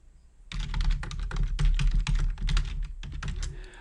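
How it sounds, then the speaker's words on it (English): Typing on a computer keyboard while a new code file is created: a quick, continuous run of crisp key clicks at close range, with a short pause before the keystrokes resume, and no voices. "I start typing in here"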